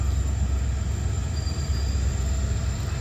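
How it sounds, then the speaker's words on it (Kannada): A departing train rumbles along steadily at close range, a loud continuous low roar of rolling wheels with a faint high squeal partway through. "ನಮ್ಮ ಟ್ರೈನ್ ಹೊರಟಿದೆ ಆಲ್ರೆಡಿ"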